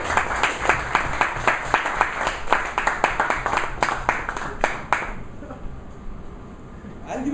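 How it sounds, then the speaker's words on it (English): Applause at a Toastmasters club meeting, a smallish group clapping in crisp, distinct claps for about five seconds before it quickly dies away to room quiet. "Can we have a loud round of applause,"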